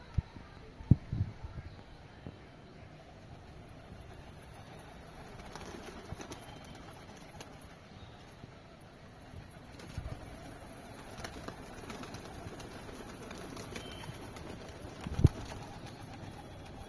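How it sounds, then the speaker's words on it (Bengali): Domestic pigeons coo softly at a distance while occasional wing flaps and thumps mark birds settling onto a perch, with a few louder bursts near the start and end; faint talk and background noise run underneath. "নেমে গেছে সব পায়রা, নেমে গেছে সব পায়রা।"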